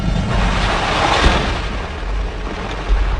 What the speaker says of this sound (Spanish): Los gases presurizados crean una explosión que expele las cenizas.